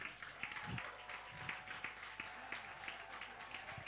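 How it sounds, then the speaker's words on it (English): Audience at a graduation exercise applauding lecturers, a steady wash of hand claps with a few sharper claps standing out, moderately faint and at a distance. "can you please stand up so we can give you a round of applause"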